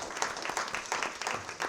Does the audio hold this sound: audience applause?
yes